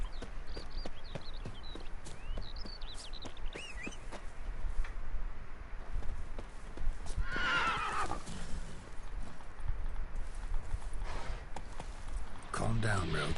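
A horse in The Witcher 3 whinnies loudly and clip-clops along, hooves drumming steadily with a second neigh partway through, while someone talks over it.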